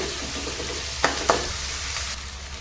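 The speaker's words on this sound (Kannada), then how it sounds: "ಬೇಗ ಇದು ಫ್ರೈ ಆಗುತ್ತೆ ಅಂಥೇಳಿ ನೋಡಿ ಈಗ ಚೆನ್ನಾಗಿ ಎಣ್ಣೆ ಇಲ್ಲಿ ಕರಗಬೇಕಿದೆಲ್ಲ" Frying and stirring in oil while making fenugreek leaf dal: a steady close sizzle with two sharp scrapes of a spoon against the pan, no talk.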